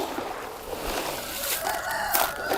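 Country chickens cluck and call at morning feeding, with a rooster-like crow rising over a steady, moderately loud farmyard hubbub.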